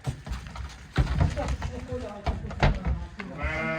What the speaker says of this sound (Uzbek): Qo'ylar haqiqiy zo'r ekan, Jobirxon aka.